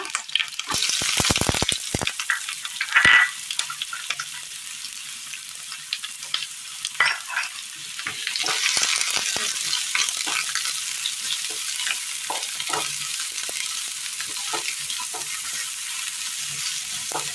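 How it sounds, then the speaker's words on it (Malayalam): Garlic and onion hit hot oil in a pan for a Kerala curry, with a loud burst of crackling sizzle early on that settles into a quieter, continuous frying hiss with occasional stirring clicks. "എണ്ണ നല്ലതുപോലെ ചൂടായി വരുമ്പോൾ ഇതിലേക്ക് വെളുത്തുള്ളി ഇട്ട് കൊടുക്കാം"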